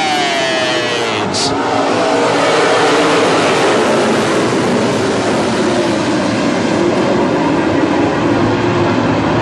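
Dirt-track modified race cars roar past at the start of a 30-lap memorial race, with loud continuous engine noise that swells and holds throughout while a voice is faintly heard underneath.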